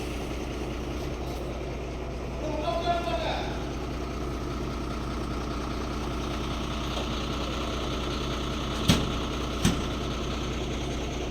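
A large truck engine idles steadily while the truck is turning, a deep rumble throughout, a brief faint voice early on and two sharp knocks near the end.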